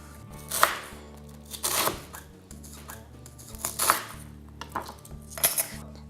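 A knife chops cabbage for sauerkraut on a board, several bursts of quick close chopping strokes separated by short pauses.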